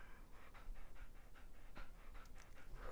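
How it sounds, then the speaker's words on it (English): Dog panting in an animated show, quick rhythmic breathy huffs repeating steadily for a few seconds, soft and close with faint background. "And you brought a dog."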